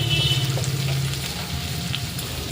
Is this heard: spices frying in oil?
yes